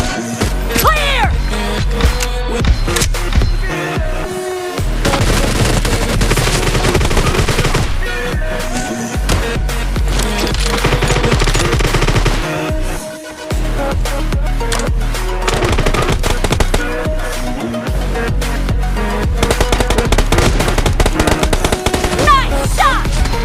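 Sustained automatic gunfire in a shooting video game, loud and dense, layered over a steady music bed with brief dips in intensity.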